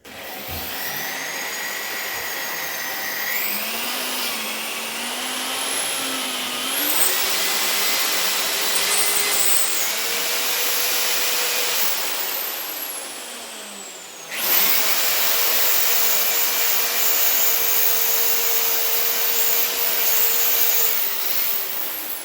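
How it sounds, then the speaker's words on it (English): A steady, high-pitched drill whine grinds continuously through ceramic tile with a ceramic drill bit, hammer mode off, pitch shifting slightly as pressure changes, with a brief pause and restart partway through. "I've got my ceramic bit on there, and make sure it's not on hammer, otherwise it'll shatter the tiles"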